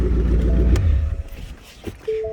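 A Ford Mustang engine idles with a loud, low rumble at close range, then is shut off and the sound drops away, leaving quieter background and a brief tonal beep.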